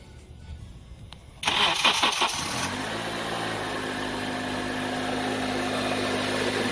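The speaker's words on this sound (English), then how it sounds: "Starting it up now." A 2004–2008 Acura TSX car engine cranks briefly and catches, then settles into a steady, close idle that runs on without voices.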